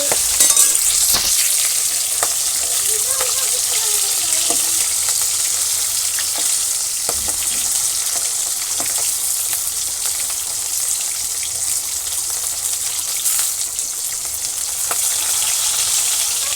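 Pieces of snakehead fish, heads included and rubbed with salt and turmeric, fry in a pan in a village kitchen, making a loud, continuous close sizzle with occasional sharper pops and no talking.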